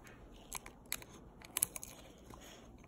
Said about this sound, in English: if there's like a piece sticking out, you can just cut that